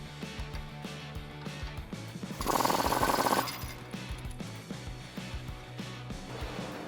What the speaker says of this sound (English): we're gonna take out this bottom bolt using an 18mm socket and wrench